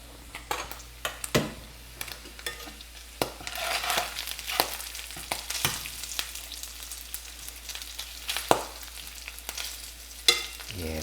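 Walleye fillets sizzle and crisp in a hot pan, a steady frying crackle broken by occasional sharp clinks and scrapes of utensils, close and fairly loud throughout.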